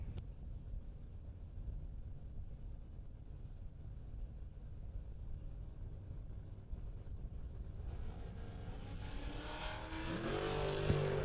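Drag race at the Mutt and Jeff Race, an 87 white Ford Mustang against a 95 Firebird, steady distant engine rumble swelling into a loud close revving launch at the end.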